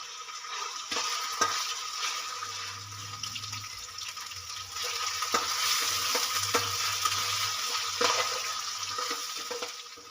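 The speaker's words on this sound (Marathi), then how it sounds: "त्यामध्ये आता आपण टोमॅटो मिक्स करूया तळून घ्यायचं आहे" Tomatoes fry in golden-brown ginger paste with a continuous sizzle, and a few sharp stirring scrapes are heard along with a low steady hum beneath.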